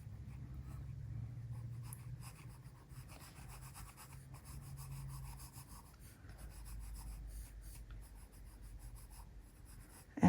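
A pencil scratches and rubs steadily on paper during a portrait sketch, a soft continuous rasp with short strokes and pauses, close up and alone with no talking.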